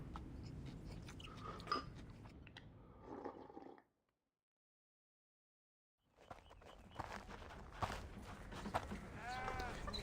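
Close chewing and swallowing at a lunch table, mixed with wooden spoons scraping across steel bowls. The sounds come in two busy stretches with crunchy bites and clinks, separated by about two seconds of complete silence.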